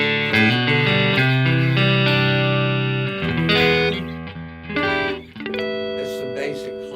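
An electric guitar plays sustained, ringing chords in a clean amplified tone with light reverb, loud and close, the notes blending and decaying.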